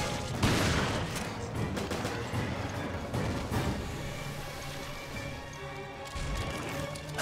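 Shotgun blasts ring out in Resident Evil Revelations amid combat, several sharp loud shots spaced irregularly over a continuous noisy backdrop.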